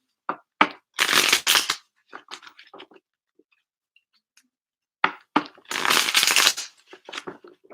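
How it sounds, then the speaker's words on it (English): Tarot cards being shuffled by hand in quick riffling bursts, close and crisp, two long riffles separated by scattered taps and short pauses, no voices. "one last shuffle for Brissa, please"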